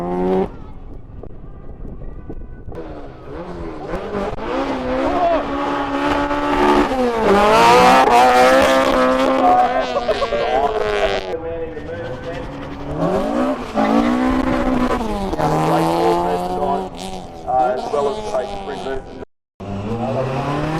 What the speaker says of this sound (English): probably one of the quickest cars off the line in the entire field